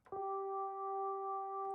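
A looped clavichord sample thickened by a Waves Doubler stereo chorus effect, heard as a sustained, even tone that starts with a short attack and holds steadily for well over a second without any speech.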